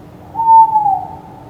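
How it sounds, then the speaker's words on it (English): A single owl hoot, a smooth tonal call held for about half a second and sliding slightly down, clear and alone against near silence. "Hoot, says an owl."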